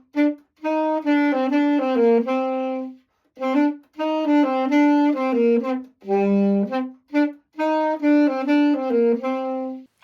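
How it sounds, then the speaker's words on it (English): A brass alto saxophone plays a melody of sustained and short notes in several phrases separated by brief rests, clear and close with no voices. "this is the alto saxophone made of brass"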